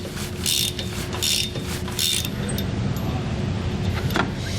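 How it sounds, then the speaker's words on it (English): A 13mm socket ratchet works loose bumper support bolts at a trailer hitch, with a few bursts of clicking ratcheting followed by quieter fiddling, close up against a low background hum. "we want to remove our 2 bumper support bolts on the back of our hitch here. We're going to use a 13mm socket"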